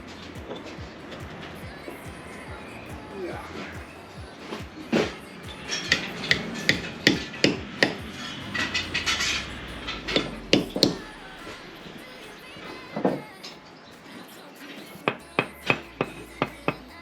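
Bricklayer's hammer knocking against brick on a house side-extension build site, a run of sharp irregular taps and clacks, some in quick clusters, with scraping and rubbing between strikes and workers occasionally talking nearby.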